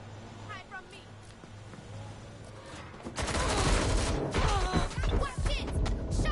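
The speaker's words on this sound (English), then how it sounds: "Shots fired." Gunfire in Watch Dogs: Legion, where the game sound is quiet and steady at first and then breaks into a dense, loud stretch of rapid shots and crashes mixed with busy street noise.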